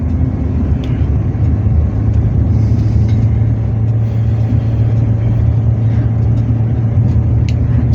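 Steady low engine rumble of a car cruising slowly in second gear along a village road, continuous and close with an even drone throughout, no voices.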